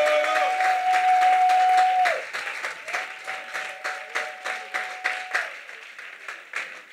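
A church congregation applauding during a prayer service, a sustained wash of clapping that thins into a steady rhythmic group clap, with a held tone sounding beneath it.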